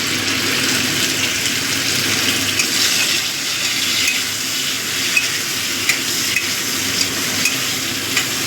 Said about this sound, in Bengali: এবার এই তেলের মধ্যে দিয়ে দিচ্ছি টমেটো কুচি।